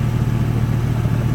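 A truck engine running with its muffler removed from under the cab, a loud, close, steady rumbling idle with an unbroken low throb.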